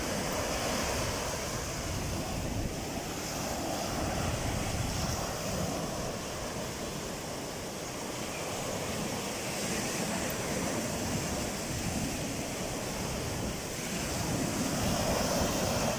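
Ocean surf at Sunny Isles Beach, Florida, a steady loud wash of breaking waves with constant broadband roar and wind buffeting the microphone throughout, no voices.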